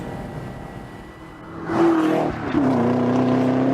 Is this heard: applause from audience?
no